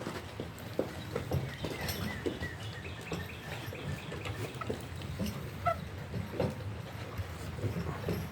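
Horses pulling a wagon at Wisconsin Dells clip-clop along in a steady rhythm, with faint birdsong in the background.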